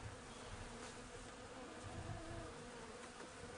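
Bees buzzing around a top bar hive, a steady, close droning hum of many insects that continues without pause and with no voices over it.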